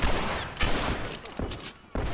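A 9mm weapon fires during a rapid gunfight in a first-person shooter video game, dense overlapping bursts of shots with brief pauses, loud and continuous.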